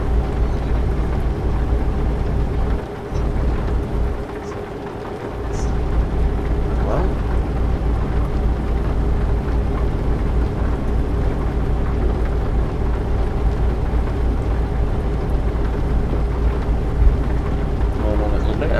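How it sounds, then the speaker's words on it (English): Heavy night rain in Euro Truck Simulator 2, a steady hiss of downpour over a low constant engine drone from a DAF XF truck, with someone briefly speaking. "Night time in the game. It's bucketed it down the rain."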